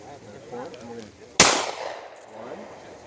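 A .45 pistol fires a single sharp, loud gunshot at close range, its crack trailing off in a quick echoing decay, with people talking before and after.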